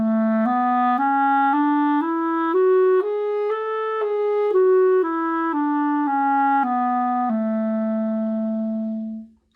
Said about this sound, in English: Now, if I play the same scale on an A clarinet, it would sound like this.